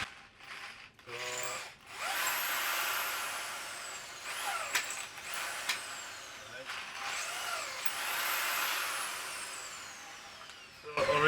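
Power drill enlarging holes for an oil cooler install on a Subaru BRZ, whirring in several loud bursts with brief pauses between them, close by and alone.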